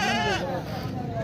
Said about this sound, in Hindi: ये देसी भेड़ें आ रही हैं।